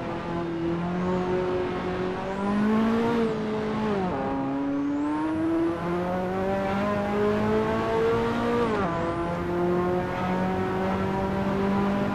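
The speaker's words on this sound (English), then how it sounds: "Here comes a car behind me." Engine whine of a race car in a sim racing game played in VR with the Custom Shaders Patch mod, steady harmonic tones that rise and dip with gear shifts as another car closes in from behind, continuous and fairly loud with no talk.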